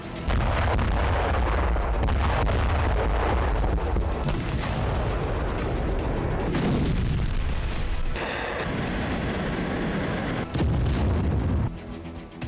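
A dense barrage of heavy explosions from a missile strike on an airbase, loud and continuous with rumbling low end, repeated bursts throughout with no speech.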